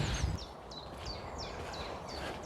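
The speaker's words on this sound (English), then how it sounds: "Can you hear that chiff chaff now?" A faint common chiffchaff song of evenly spaced, repeated two-part notes, distant and soft over a hushed outdoor background.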